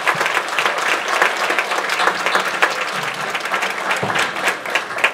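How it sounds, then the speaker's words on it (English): A church congregation claps at a Sunday service, loud and dense. The applause runs steadily from start to end with no talking over it. "Let's give them all a round of applause."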